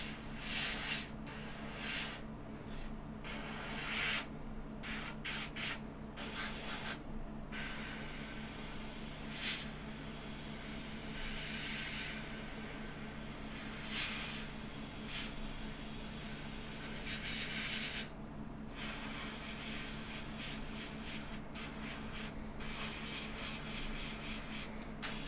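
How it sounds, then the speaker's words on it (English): Airbrush spraying paint onto a Dr Who Airfix model kit, a steady close hiss of air running continuously throughout with faint flickers and small breaks in the spray, no talking. "whenever you're using the airbrush, you keep the airbrush moving"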